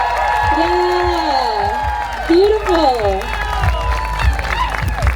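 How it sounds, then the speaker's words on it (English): Crowd applause and cheering at an outdoor event with many people, a steady wash of clapping with whoops and shouts, while someone speaks over it through a sound system. "Let's keep that applause going."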